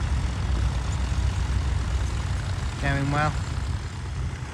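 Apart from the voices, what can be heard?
Massey Ferguson 135 tractor engine while ploughing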